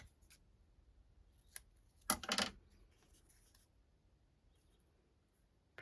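Scissors snipping through paper for a commonplace book, a short crisp cut close by with a few faint taps and rustles around it in an otherwise quiet room.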